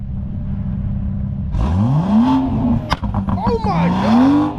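BMW 440i with the B58 engine, idling quietly before a sharp rev that rises and falls, followed by crackling exhaust burbles and a second rising rev, loud and close.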